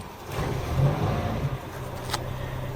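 A Datsun 1000's engine runs and revs after a cold start with the choke, a close, steady mid-pitched idle swelling into a throaty rev, with a brief sharp click near the end.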